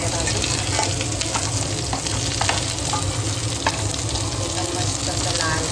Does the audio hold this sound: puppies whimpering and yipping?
no